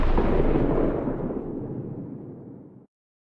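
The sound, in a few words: gunshot in a video game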